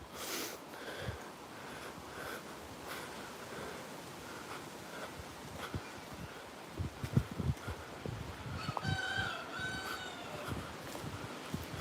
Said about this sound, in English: Cockerels. Or chickens, don't know.